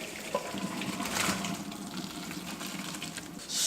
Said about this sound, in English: We have to pour boiling hot water into what I found out is called a colander without burning ourselves.